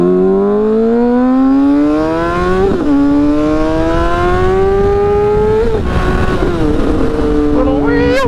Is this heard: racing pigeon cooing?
no